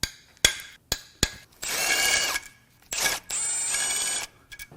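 A power tool backs bolts out of the timing cover of a Honda S2000's F20C1 engine. A few sharp clicks and taps lead into two close, whirring bursts of about a second each, separated by a brief pause.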